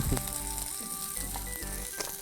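Meat frying in oil in a pan, a steady, dense sizzle with crackles and small pops, moderately close, alongside a few faint clinks of utensils.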